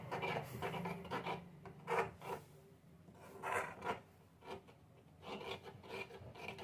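A ladle scrapes and stirs milk into caramel in a pot for Bengali misti doi, giving soft, rhythmic rubbing strokes close by with brief pauses between them and no talking.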